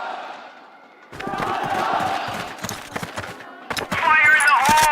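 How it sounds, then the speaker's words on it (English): A loud crowd at an esports arena during a Crossfire semifinal, cheering and roaring in sustained waves, with a bullhorn blaring sharp calls near the end and a commentator's voice running over the noise. "It's a loud crowd when the superfan gets out with the bullhorn."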